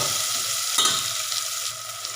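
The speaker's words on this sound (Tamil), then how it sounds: "இதில் ஒரு தக்காளி போட்டு நல்லா வதக்கிக்கலாம்." Tomato sautéed in a pan for fenugreek leaf sambar gives a bright continuous sizzle close by, with one brief stirring scrape near the start.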